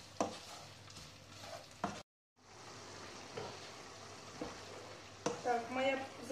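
Minced meat with tomato fries in a pan with a moderate sizzle and occasional stirring clatter, briefly cutting out before resuming; quiet voices are faintly present.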